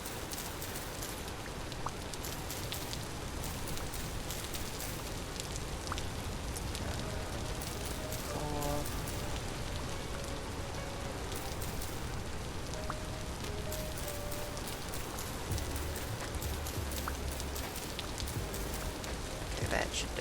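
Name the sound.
rain falling on roof in video game Vintage Story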